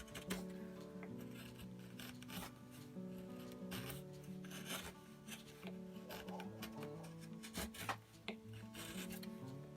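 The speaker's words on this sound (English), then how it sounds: "the red cedar is nice and soft that you can actually carve it out pretty easily" A small chisel carves into soft red cedar for a traditional knife handle, giving close, quiet scraping and rasping strokes in an irregular rhythm with occasional sharper clicks as the blade digs in, and no speech.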